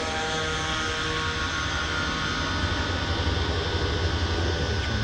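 An RC model airplane engine runs at full power in flight, a steady droning whine that holds fairly loud and continuous throughout with no voices.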